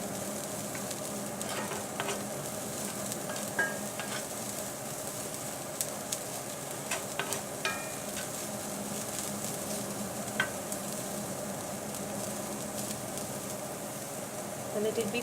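Shredded red cabbage fries in a pan with a constant, even sizzle, while a utensil occasionally scrapes and stirs and there is no talking.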